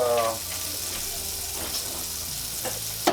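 Butter sizzles in a low-heated skillet still coated with residue from cooking salmon, a steady moderate frying crackle with a brief voice at the start and a few utensil knocks.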